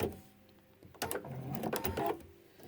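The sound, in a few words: sewing machine sewing quilt binding off the corner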